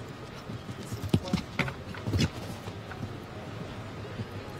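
Horse hooves clip-clop across a show jumping arena at an international Nations Cup competition in St. Gallen, a run of sharp, fairly close strikes in uneven rhythm over steady crowd and commentary noise.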